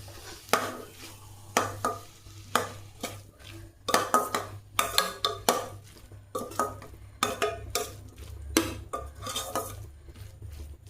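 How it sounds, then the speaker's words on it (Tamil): A spoon scrapes and clatters repeatedly against a pan as ginger is stirred into sautéed tomatoes for a chicken 65 side dish, loud irregular strokes over a faint low sizzle. "இப்போ தக்காளி வதங்கிடுச்சு ஓரளவுக்கு. இதில் இஞ்சியை போட்டுக்கலாம்."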